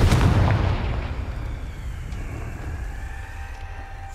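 A Confringo fire spell explodes in the Hogwarts Legacy video game: a loud, close, booming burst at the start that rolls off into a long, rumbling decay with no voices over it.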